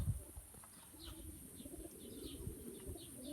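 Young Arab pigeons cooing softly in a coop, faint low murmuring coos with light rustling and occasional wing movement in the background.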